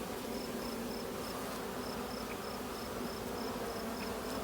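Honey bees from a colony being cut out of a farmhouse eave two stories up, a steady dense buzzing drone that holds throughout, with a faint repeating high tone over it and no talking.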